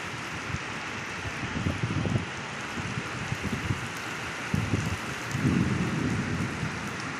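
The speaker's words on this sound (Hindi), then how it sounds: "बारिश बहुत है, बहुत बारिश है भाई।" Heavy, steady rain pours down in Jeddah in a dense hiss with heavier gusts of downpour, no voices.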